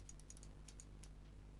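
Several quick keystrokes tapped on a computer keyboard while entering values into software fields, sharp light clicks in an irregular burst over a low steady hum, with no talking.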